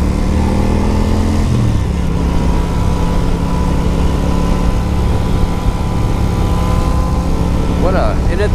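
A Moto Guzzi motorcycle engine rumbles loudly and steadily up close, with a brief rev change early on, its low throb continuous throughout.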